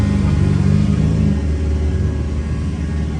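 A BMW E30 fitted with a V8, its engine revving loud and close with a deep, steady rumble that drops slightly partway through and then holds.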